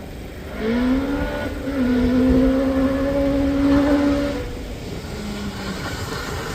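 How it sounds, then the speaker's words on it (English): A big Subaru race car on the twisty hillclimb course at Craigantlet, its engine rising into a sustained whining drone as it accelerates past, then fading before a brief softer note. "Big Subaru supports its way through the twisty stuff."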